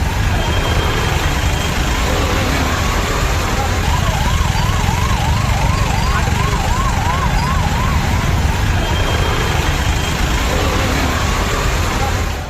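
An ambulance stuck in heavy rain-bound traffic on Poonamallee High Road in Chennai, its wailing siren rising and falling at mid-distance over a dense, loud wash of rain and traffic noise.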